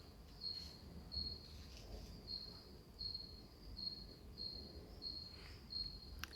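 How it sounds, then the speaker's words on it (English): Steady, high-pitched cricket chirps pulse in a regular rhythm against a faint, low rumbling background, with no voices. "Nothing but the sound of crickets. Literally."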